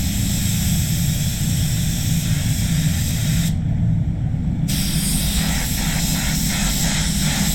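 A high-pressure spray gun lays PPG LVC 105 clear coat over a candy finish with a loud, continuous hiss, pausing briefly midway before spraying resumes.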